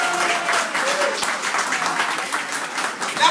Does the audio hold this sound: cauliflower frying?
no